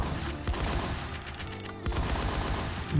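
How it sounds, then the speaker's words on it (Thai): Rapid, sustained automatic gunfire in a video game, a dense unbroken burst of shots with a brief gap near the middle, loud and close. "ยิงโคตรรัว กวาดเรียบ กวาดเรียบ"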